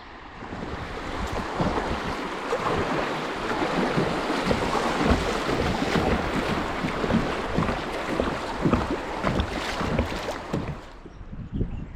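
Steady rushing flow of the Buffalo National River heard up close from a boat, with constant water wash and some wind buffeting the microphone.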